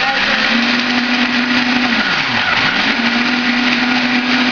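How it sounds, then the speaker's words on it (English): A food processor spinning bread crumbs for a squash casserole topping, a loud steady high-pitched motor whir whose pitch dips briefly midway before recovering. "We're going to put it in the food processor"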